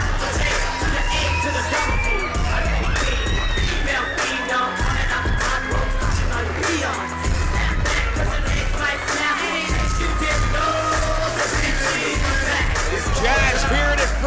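Pro wrestling crowd at a SHINE women's wrestling show in Ybor City roars after the main event, loud continuous cheering, whoops and yells with sharp bangs and thuds throughout, close and dense from start to finish.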